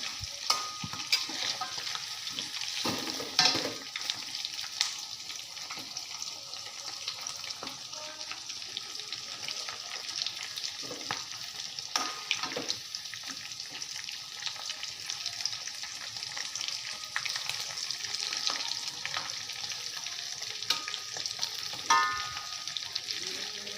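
Steady oil sizzle and crackle of chicken deep-frying in oil, continuous and fairly quiet, with occasional clinks and stirring sounds.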